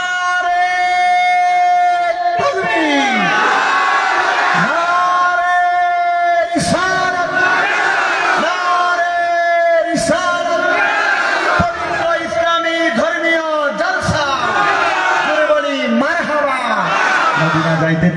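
Large crowd at a religious gathering shouting takbir (Allahu Akbar) in response to a preacher, loud repeated chanted calls rising and falling in waves, voices strong and close with a tonal, sung quality throughout.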